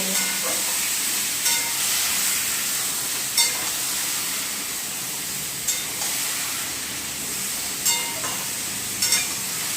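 Meat cooking in a pan with a splash of water added hisses and sizzles steadily, a loud continuous steamy hiss with occasional brief spattering pops.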